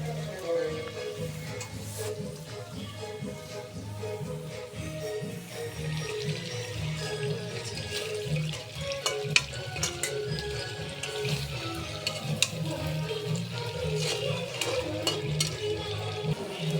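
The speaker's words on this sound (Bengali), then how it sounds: "দেখুন আমাদের চিংড়ি ভাজাটা হয়ে এসছে" Prawns fry in a pan with a steady, close hiss of sizzling oil that runs without a break, broken by occasional scrapes and clinks of stirring.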